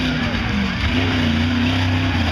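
A V8-powered 1972 Ford Bronco tough truck idles and revs with a steady, loud low rumble, engine note rising slightly midway, continuous throughout.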